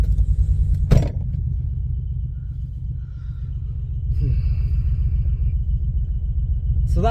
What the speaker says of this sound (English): we've still got a misfire